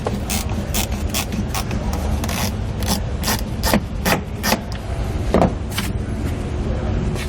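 Interior trim panels are pried off inside a 2018 Mercedes-Benz, giving repeated sharp plastic snaps, scrapes and rubbing clicks at close range, with no talking.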